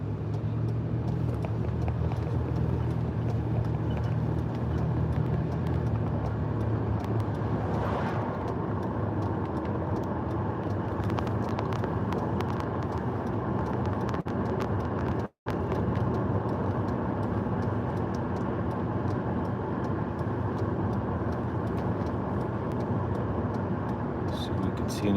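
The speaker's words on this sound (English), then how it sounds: "we'll get in the vehicle and we'll drive down. We'll continue to trek or drive east on Highway 2" An older pickup truck driving east on Highway 2 near Wrightwood, California, at night: a steady loud engine and road rumble throughout, with a brief dropout midway.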